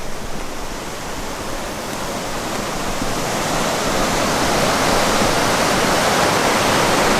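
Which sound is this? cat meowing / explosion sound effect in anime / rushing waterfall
rushing waterfall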